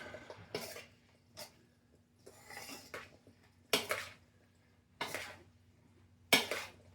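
Pasta salad being mixed with Salad Supreme seasoning in a bowl: intermittent scraping and clinking of a utensil against the dish in short strokes, close and fairly quiet over a faint steady hum, with no talk.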